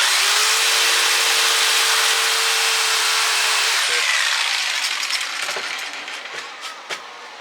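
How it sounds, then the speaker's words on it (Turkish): A power saw makes a 45-degree angled cut through wood for a balcony table, a loud continuous high whine that fades as the blade spins down, followed by light knocks and handling sounds nearby. "Şimdi ben iç taraftan kesiyorum."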